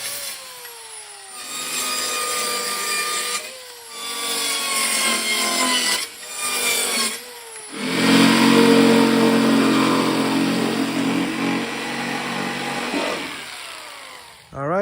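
A 15 by 32 inch plywood panel being cut to shape with a saw, loud sustained rasping strokes in several bursts with short pauses, ending in one long continuous cut.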